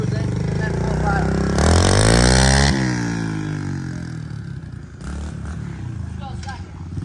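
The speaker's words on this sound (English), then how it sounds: "We'll do a little first gear, just cruise in and then full throttle." A 2023 Kawasaki KLX110 with a 143cc bore kit, Mikuni VM26 carburetor and BBR exhaust revs hard at full throttle, a loud rising engine whine climbing in pitch before easing off into lower running with a voice over it.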